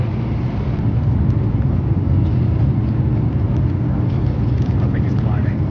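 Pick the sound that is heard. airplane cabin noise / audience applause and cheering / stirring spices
airplane cabin noise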